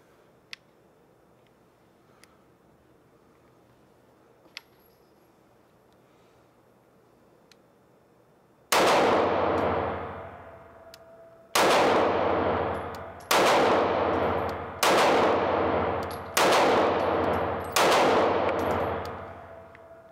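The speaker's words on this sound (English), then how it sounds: "this gun is not moving at all as I shoot it" Six loud, close pistol shots from a budget $200 carry gun, spaced about a second or two apart, each a sharp crack with a ringing decay, after several quiet seconds with a couple of faint clicks.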